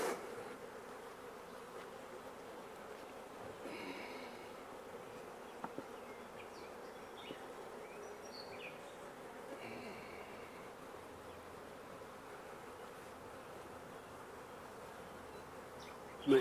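Honey bees, including nurse bees from a starter colony, buzz steadily at an open hive, a dense continuous drone with a few louder passes close by and no talking.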